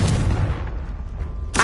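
A Confringo spell in Hogwarts Legacy lands with a loud, booming blast that rumbles away over a second, followed by the sharp onset of another burst.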